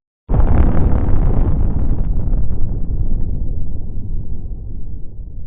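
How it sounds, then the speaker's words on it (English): A sudden massive explosion bursts out of silence, then a deep, rolling rumble that slowly fades for several seconds. "a white-hot explosion, a deep, rolling thunder that shakes the ground itself"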